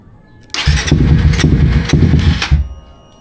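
A Suzuki GSX 150 motorcycle fitted with an aftermarket exhaust cranks loudly for about two seconds and fails to start. The starter grinds steadily with a few sharp surges, then cuts out into near silence.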